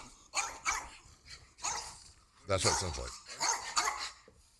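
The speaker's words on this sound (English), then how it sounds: "It's the dog." A dog barks in short bursts amid conversation, the yaps and growly tones mixed under and between people talking nearby.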